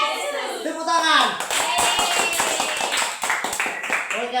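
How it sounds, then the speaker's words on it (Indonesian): Children clap their hands together in a brisk, lively burst in a Sunday school class, with voices singing and talking over the steady flurry of claps. "Tepuk tangan."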